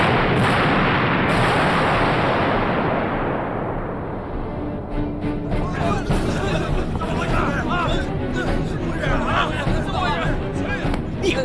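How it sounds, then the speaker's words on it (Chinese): Cannon fire in a wartime drama battle scene: a heavy booming blast opens and rumbles on, followed by a dense din of further fire and shouting voices. "好，那咱们就轰死他们。"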